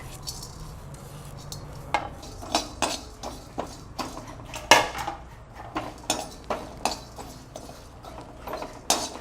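Cumin seeds dry-roasting in a pan for a mutton curry, with a utensil stirring and clinking against the metal in repeated, irregular close taps over a low background.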